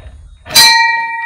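A rustic stone-and-wood house's bell is rung by pulling its chain: one bright metallic strike follows a low rumble and leaves a clear ringing tone that decays over about a second, close and loud.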